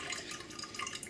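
Water drains and drips from a jar of sprouts, a faint, steady trickle with small patters close by and no voices.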